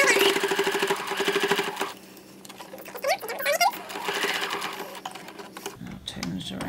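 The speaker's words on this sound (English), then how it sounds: "I'm sewing along the line that we had sewn with the microfiber" A sewing machine stitches a fabric face mask with a microfiber filter layer in rapid bursts, pausing and restarting, while a person talks over and between the runs.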